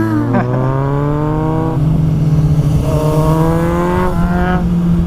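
A car running with its exhaust silencer (dB killer) removed, engine droning loud and close, with repeated revs rising and falling in pitch.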